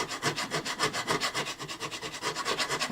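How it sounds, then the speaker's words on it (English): A diamond grit file dresses the frets of an old Gibson Southern Jumbo guitar in rapid back-and-forth strokes, a close, even rhythmic rasping of about five passes per second with no talking. "these diamond grit files, you can file away from you and in both directions"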